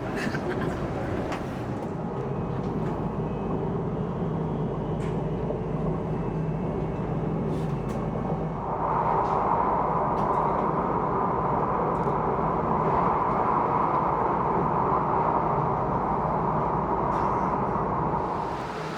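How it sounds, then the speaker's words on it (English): A continuous heavy rumble of a train rolling into Kuala Lumpur station, growing slightly louder and brighter partway through, with no clear talking. "Our train."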